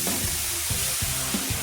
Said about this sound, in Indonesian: aku mau goreng adonan ini